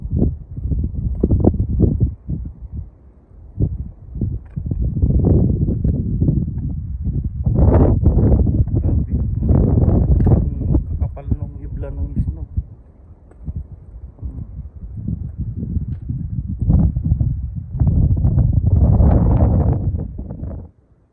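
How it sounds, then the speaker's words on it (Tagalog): Strong gusting wind buffets the microphone in a heavy snow squall in Edmonton, a loud, continuous rushing roar that surges and eases in waves for the whole stretch, with brief lulls between stronger blasts. "Hangin."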